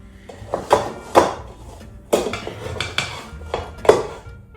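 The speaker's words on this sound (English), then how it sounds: "Now we're just going to stir this all around." A utensil scrapes and knocks against a pan while garlic and rice are stirred together with bacon, giving about six irregular clanks and scrapes, close and fairly loud, with no talking.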